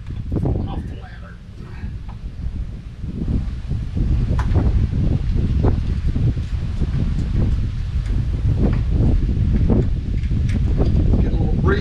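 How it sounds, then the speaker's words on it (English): Wind gusting around a person up on a ladder outdoors while replacing an RV awning, a steady low rumbling rush with buffeting thumps and rustles, loud and close to the microphone, under occasional speech. "It's getting a little breezy up here."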